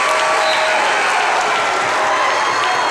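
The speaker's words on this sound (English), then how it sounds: "And that'll bring this Blue Devil crowd to life." Loud, steady roar of a high school boys basketball crowd at a Waynesboro versus Greencastle game, dense cheering and clapping filling the gym for the full stretch without pause.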